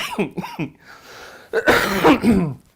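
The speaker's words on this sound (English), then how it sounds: "So please forgive my little cough." A few short throat-clearing coughs in quick succession, close by, followed by a harsher, longer cough, a lingering cough after pneumonia.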